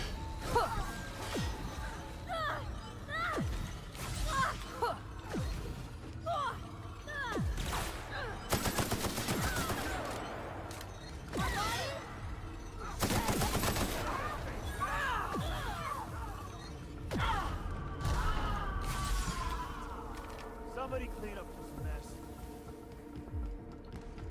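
Scattered gunfire in the video game The Outer Worlds, intermittent sharp shots and short bursts amid combat effects and music, with someone talking over parts of it.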